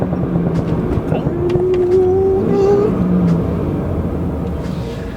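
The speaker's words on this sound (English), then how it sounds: "The intake in this car is so loud." Loud intake roar from a BMW 330i with the B4 engine and a stage 1 flash tune, steady and droning while accelerating on a freeway, with voices talking over it inside the car.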